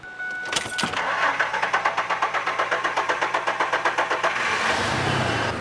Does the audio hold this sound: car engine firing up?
yes